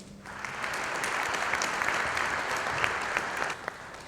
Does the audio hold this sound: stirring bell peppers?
no